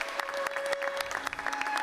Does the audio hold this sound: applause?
yes